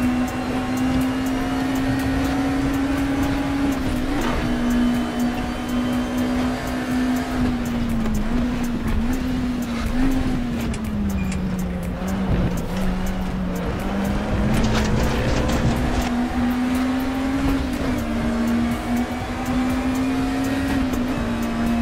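DTM race car engine in an online racing video game drones loudly and continuously at high revs, pitch dipping and rising through gear changes, with a synthetic game-like quality.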